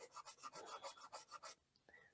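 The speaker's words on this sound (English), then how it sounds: "I'll just take and try to rub away the rough edges" Pencil drawing being rubbed to soften rough edges, a soft rhythmic scratchy rubbing of about ten quick strokes on paper, close and faint, then a brief pause.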